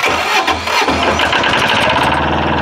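A small portable generator engine cranks and catches, settling into a steady mid-pitched running drone, close and loud.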